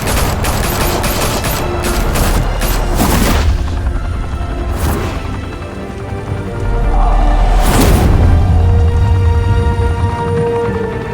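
A loud volley of gunfire from several guns in Batman: The Telltale Series, dense overlapping shots and booms filling the scene, with a few sharper cracks standing out and no voices over it.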